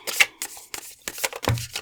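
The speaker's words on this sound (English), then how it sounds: "Sometimes I struggle shuffling this particular deck because it's pretty big." Someone shuffles a large, oversized deck of tarot cards in a series of quick papery riffles and slaps, some sharp and crisp, with brief pauses between bursts.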